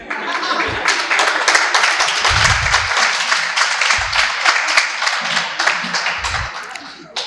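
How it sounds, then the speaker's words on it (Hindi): Thunderous applause from a stand-up comedy crowd welcoming the comedian, loud dense clapping that runs unbroken for several seconds and fills the room. "आपने जो ये मेरे स्वागत में घनघोर तालियां बजाई हैं"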